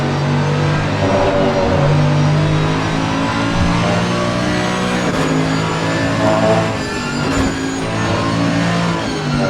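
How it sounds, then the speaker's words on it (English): Mercedes GT3 race car engine at Imola in a racing simulator, a loud continuous grunting drone with shifting pitch as it accelerates and changes gear, with no talk over it. "A Mercedes. I don't think there was anybody else driving a Mercedes today. You hear that grunt, recognize it right away."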